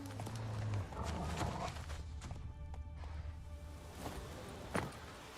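Horse hooves clip-clopping at a steady gallop in The Witcher 3, with a neigh and a sharp snort near the end, set against a continuous ambient game background.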